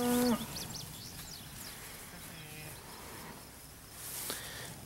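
Hereford, black and black baldy cattle in a hand-fed steer group, heard as a single low moo at the start, then faint animal and insect sounds in a quiet outdoor setting.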